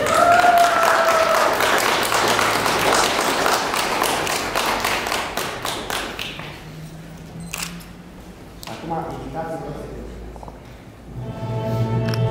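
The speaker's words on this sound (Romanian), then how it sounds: "Aplauze de invitație." Wedding guests applaud a newly married couple with a dense burst of clapping that tapers off. Camera shutter clicks are scattered throughout, and faint voices follow.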